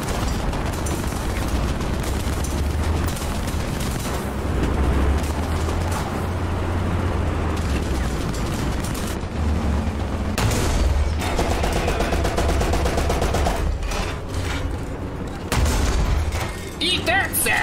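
Gunfire and explosions in a World War II-style war video game set in France, with sustained shooting and deep booms rumbling throughout, loud and dense, with a player shouting over the battle.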